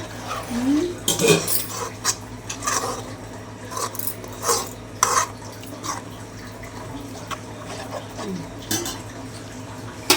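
A spoon scrapes and clanks against a pot while dried fish and ridge gourd curry is stirred, with irregular metallic knocks and brief pauses between strokes.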